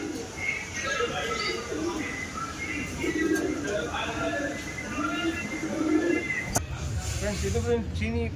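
Rekhdar and Cheeni breed pigeons coo in repeated soft, rolling calls close by, with someone talking over them.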